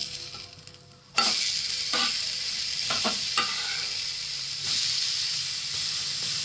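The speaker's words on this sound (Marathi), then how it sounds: "आणि आता आपण हे असं पलटून घ्यायचं" Besan-coated food sizzles steadily in an oiled pan; after a short quieter moment, a sharp burst of frying marks the flip, then a loud continuous hiss and crackle carries on with faint scrapes.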